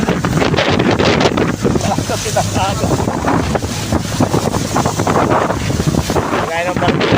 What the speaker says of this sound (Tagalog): Parang sa siyang alon, tumigil yung barko.